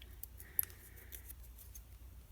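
Scissors snipping shapes out of lace paper or card for stamping crafts, a few quiet, close, scattered cuts over a faint low hum, with no talking.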